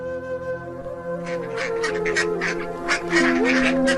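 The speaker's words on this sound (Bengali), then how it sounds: "ওই তো আমাদের হাঁসগুলি পুকুর পাড়ে কি সুন্দর করে ঘাস খাচ্ছে" Domestic ducks at a village pond bank quack loudly and close by in a rapid, overlapping cluster that builds over the second half, with a few honk-like calls.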